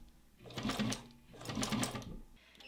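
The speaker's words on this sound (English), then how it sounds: "I'm just gonna hand crank it first, just to make sure it actually like isn't going to hit anything" Two slow rounds of a Juki 1541 industrial sewing machine being turned by hand, each a soft mechanical whir and clatter of the needle and feed, faint and close, with no voices.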